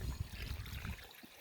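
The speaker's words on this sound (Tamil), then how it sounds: "தண்ணி ஓடிக்கிட்டு இருக்கு" Water from the outlet of a 900W BLDC motor pump on a 63mm pipe trickles and splashes steadily at close range, fading slightly toward the end, with no talking.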